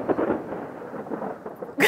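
Thunder from a summer storm over a golf course rumbles as a broad, rolling low roar lasting a couple of seconds, loud and fairly close, followed by a sharper burst of noise at the end.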